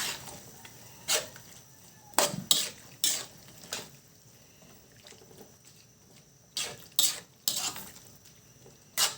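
Spoon stirring pork giniling with potatoes and carrots in a pan, a series of sharp scraping clacks against the metal at an irregular rhythm, close and clear with no talk.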